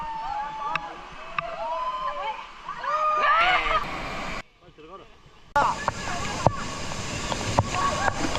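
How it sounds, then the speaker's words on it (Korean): Splashing and rushing water at Kawasan Falls in Cebu during canyoning, a steady wash of water noise beneath excited voices and shouts, briefly dropping as if muffled before returning. "우와 폭포다 폭포다"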